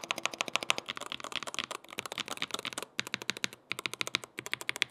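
Rapid typing on a Corsair K70 Pro TKL keyboard with Hall effect switches clatters in quick bursts of crisp key presses, with a couple of brief pauses between runs.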